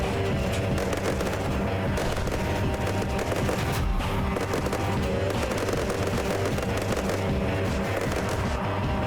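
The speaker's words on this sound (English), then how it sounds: "They're already opening fire with their 50 cals." .50 cal machine guns opening fire, dense rapid streams of shots rattling continuously and loudly throughout, overlapping bursts with no pause.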